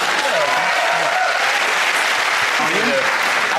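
The Mock the Week comedy panel-show studio audience applauds loudly and continuously, a dense, even wash of clapping with faint voices mixed beneath.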